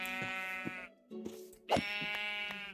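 Sheep bleating in Minecraft, two long harmonic bleats separated by a short pause with a brief crunchy hit in between, close and clear with no talking.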